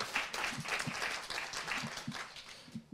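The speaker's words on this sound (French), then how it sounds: "Vous pouvez applaudir." Conference audience applauding at a round-table session, a steady wash of many hands clapping throughout, moderately loud with no talk over it.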